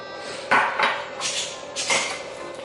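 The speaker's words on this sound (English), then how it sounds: "we're going to mix this all together, and it's going to become a thick, chocolatey mixture with a lot of texture" Graham cracker crumbs, pecans and coconut are mixed together in a bowl, giving a handful of soft scrapes and clinks of a utensil against the bowl, fairly quiet with no talking.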